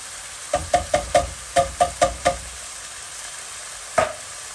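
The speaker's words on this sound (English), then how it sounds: "Give them a quick stir." A spoon stirs chopped tomato with garlic in a pan, giving about eight quick, crisp knocks in an uneven run, then a pause and one last tap, close and clear over a quiet background.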